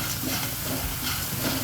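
A pressure cooker cooking cucumber for sambar lets out a steady, loud hissing whistle of escaping steam that lasts a second or two without pause.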